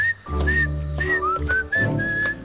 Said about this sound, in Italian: non si fischia in cucina